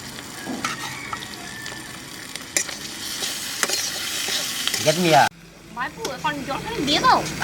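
Fried eggs tossed into pointed gourd in a pan, with steady stirring scrapes over a sizzle and a sharp cut midway; voices sound faintly in the background.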